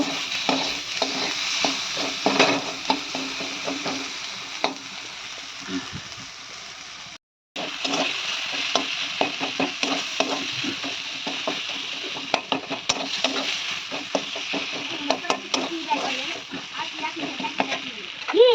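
Onion, tomato, ginger, garlic and green chili fry in a pan with a long, steady sizzle broken by frequent stirring scrapes and light clinks. The sizzle cuts out for a moment, and a voice talks faintly now and then.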